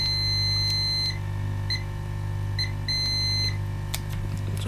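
Repeated short electronic beeps from a continuity test on a capacitor on an HP Pavilion dv6 laptop motherboard, sounding in brief bursts and pairs over a steady low hum.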